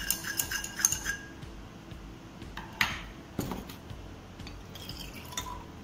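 Glass clinks and taps from stirring a solution of solute dissolved in solvent inside a glass container, a few sharp chinks early on then sparser clinks against a quiet background.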